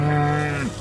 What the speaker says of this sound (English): This mom cow was loudly calling for help because her calf fell into a hole.